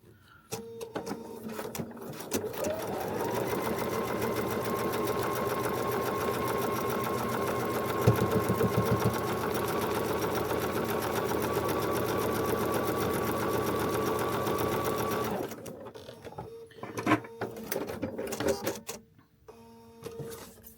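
A sewing machine stitches a foundation-paper-pieced section of a feathered star quilt block, running steadily for about thirteen seconds before stopping, followed by a few faint handling clicks and rustles.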